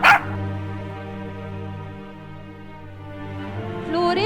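Puppy with a broken leg whimpering and yelping loudly on a roadside, a sustained whining cry with a sharp yip at the start and rising yelps near the end.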